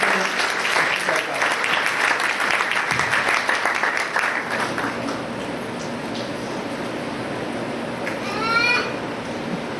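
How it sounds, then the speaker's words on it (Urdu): A church congregation at a Palm Sunday service applauds, a dense wash of clapping that is loud at first, then thins and fades out, with a brief squeaky chirp near the end. "آپ تالیوں میں جا کے"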